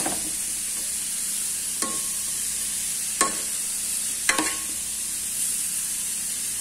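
Bitter melon and beef fry in a pan, giving a soft, even sizzle with a few sharp scrapes and taps of a stirring utensil at scattered moments.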